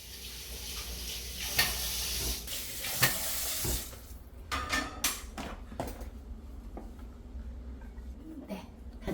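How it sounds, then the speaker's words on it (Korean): Dishes being washed at a home kitchen sink, with clinks and clatters of dishes and utensils over running water, loudest in the first few seconds and softer, more scattered knocks afterward. "제가 설거지를 좀 하고 있어서."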